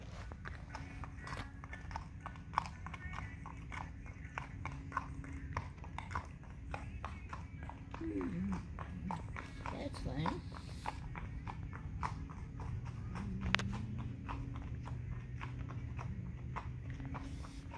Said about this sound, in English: we saw the horse twice in one day